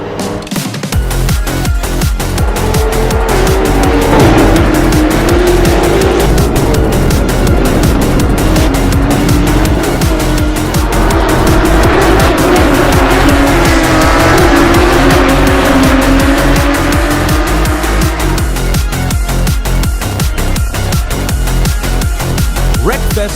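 Modern hypercars roar at full throttle in a racing video game, engines wailing and shifting pitch continuously while tires squeal through corners, loud and dense throughout with no pauses.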